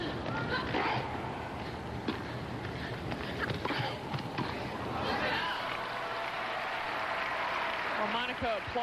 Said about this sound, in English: Applauds that one.